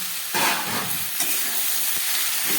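Garlic and chopped spring onion stalks fry in a pan with a loud, close, broad hiss and sizzle, broken by stirring scrapes and bursts as the food is tossed, and nobody speaks.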